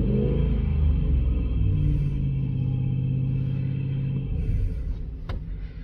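A car engine held at a steady raised idle of about 2500 RPM for several seconds during a battery test, a close, continuous hum that eases off near the end.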